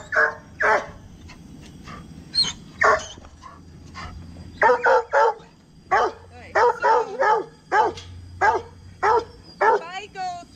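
A leashed dog lets out a series of sharp, close barks in irregular bursts, mixed with short yips and whines, while a person talks between and over them.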